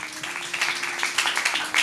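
A church congregation claps together in a dense, continuous patter of many hands, fairly close, with a faint voice now and then under the clapping.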